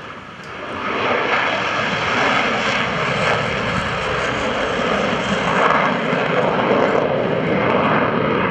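Loud, sustained roar of an F/A-18C Hornet's jet engines at full military power right after a carrier-style landing at an airshow, swelling in over the first second and then holding a broad, steady rumble throughout.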